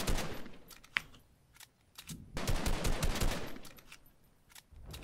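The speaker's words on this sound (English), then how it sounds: "Why are they shooting me?" Gunfire from the Fortnite video game, loud bursts of rapid automatic shots in two main stretches with a sharp single crack near the start, filling the clip with no talk over it.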